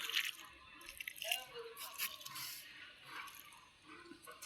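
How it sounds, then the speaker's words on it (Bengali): Water is poured onto a ginger plant in a pot on a rooftop, giving a soft, faint run of trickles and splashes close by, with brief pauses between pours. "এই গাছটার মধ্যে একটু দিয়ে দিই"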